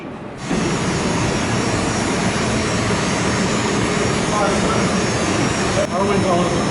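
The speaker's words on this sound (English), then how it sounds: "Our wind tunnel is a closed loop." A NASA closed-loop wind tunnel running, air circulating continuously through the loop, a loud steady broadband roar that holds level from start to finish after a brief quieter moment at the opening.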